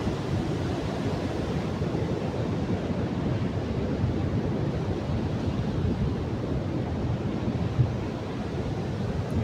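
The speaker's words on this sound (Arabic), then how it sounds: "هاي الموج غادي يطلع" Ocean waves wash onto a beach in a steady, unbroken roar of surf, loud and close, with wind buffeting the microphone and no voices.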